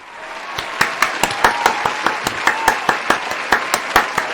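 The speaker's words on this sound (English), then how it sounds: "we're going to give our round of applause to the NHS, everybody" Audience applause for the NHS during an 8 o'clock clap: steady, sharp individual hand claps in a regular rhythm over a bed of softer clapping, close and fairly loud.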